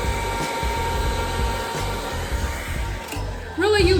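A close, loud blow dryer hums continuously as it sets a glued hair weave track, with its whir wavering slightly before a voice speaks briefly near the end.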